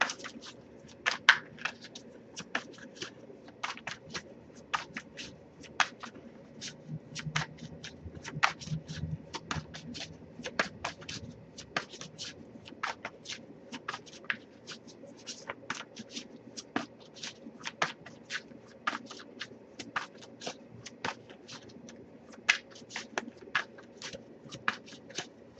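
Steady irregular riffling and soft slapping of an Aqua Moonlight tarot deck being shuffled by hand, close and fairly quiet, with sharp card snaps scattered through a long continuous stretch.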